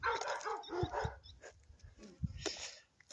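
A dog barks outdoors beside a road and walking path, giving several sharp barks in the first second and another burst around two seconds, moderately near, with no talking.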